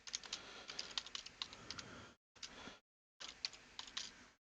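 Quick clattering keystrokes on a computer keyboard come in two bursts separated by short silences, close and crisp, with no talking.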